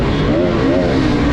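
A Bajaj Pulsar RS200 BS6 motorcycle engine runs nearby with a loud, steady exhaust drone, its pitch wavering slightly as the throttle is blipped.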